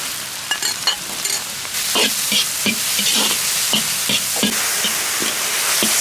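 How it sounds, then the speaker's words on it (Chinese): Diced shiitake mushrooms stir-fried in a wok with oil, chopped scallion and minced ginger, giving a steady close sizzle with repeated scraping strokes of a spatula roughly every half second. "锅里再倒点油，炒香菇，油后下入葱花姜末，炒香以后下入香菇丁儿"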